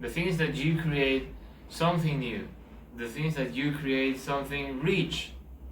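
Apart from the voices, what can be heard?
No distinct noise like a dog, phone or traffic.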